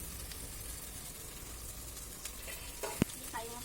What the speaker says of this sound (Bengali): মশলা কষানো হচ্ছে, আলু আর চিংড়ি মাছ দেওয়া হয়েছে